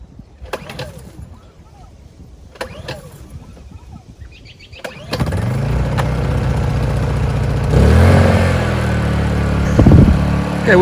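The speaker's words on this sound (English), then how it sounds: "Let me see if I start this up, if the generator will stay running." A Honda EU2000 portable generator with an extension cord and Craftsman blower/vacuum plugged in is pulled and starts up; quiet pull-cord rattles come first, then a loud steady engine drone takes over, rising and holding near the microphone.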